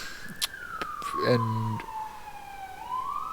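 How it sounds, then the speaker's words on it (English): A wailing ambulance siren sweeps through nearby, its tone gliding high and low, with a brief horn-like blast in the middle. "There's an ambulance coming."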